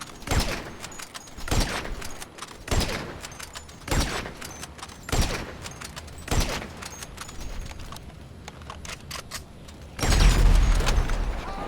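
A suppressed Heavy Sniper Mark II with extended clip, heavy barrel and non-explosive rounds fires at a jet in a video game: sharp, heavy shots land at a steady pace about a second apart, then a louder rumbling burst near the end.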